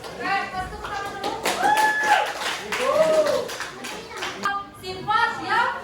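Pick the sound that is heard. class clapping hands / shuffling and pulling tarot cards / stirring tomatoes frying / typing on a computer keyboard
class clapping hands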